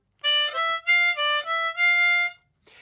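Harmonica notes in a blues riff triplet pattern: a run of short, separated reedy tones with small pitch steps, ending on a longer sustained note, played clearly and alone.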